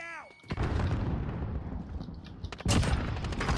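A thrown grenade goes off in Warzone: after a stretch of rumbling combat noise and scattered shots, a sharp, loud blast bursts in near the end and rings on briefly.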